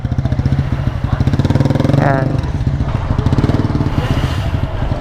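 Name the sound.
motorcycle engine idling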